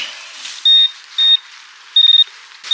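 A handheld metal detector sweeping ground at a wartime battlefield site gives short, sharp electronic beeps: two single tones, then a rapid stuttering burst and a final onset, loud and clear over quiet background hiss.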